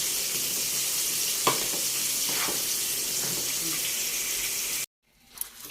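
Sinukmani, a biko rice cake, simmers and reduces in a pan with a steady bubbling sizzle and occasional stirring scrapes. It cuts off abruptly near the end, and a voice speaks faintly at moments.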